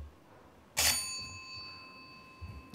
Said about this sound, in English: then you will hear this little bell